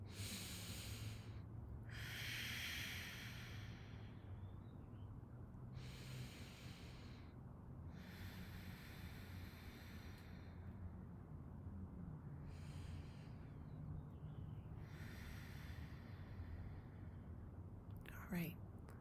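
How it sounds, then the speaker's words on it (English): Slow, deep belly breaths in a yoga rest pose, with airy inhales and exhales repeating in a long, even rhythm over soft background hiss, close and quiet. "We'll stay here for 3 deep breaths into the belly."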